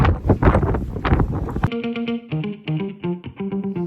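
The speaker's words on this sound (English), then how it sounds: "It's windy." Gusty wind buffets the microphone in loud, rough rushes for a couple of seconds, then cuts off abruptly as music with distinct notes takes over.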